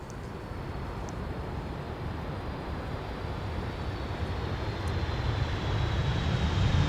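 An airliner comes in to land in a crosswind at Amsterdam Schiphol Airport, its broad jet roar rumbling at a distance and slowly growing louder and nearer, with no talking.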